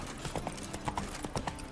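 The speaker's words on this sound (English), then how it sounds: "I'm riding a horse, man." A horse's hooves clip-clop in The Witcher 3, a brisk, steady rhythm of hoofbeats at close range with no talk over them.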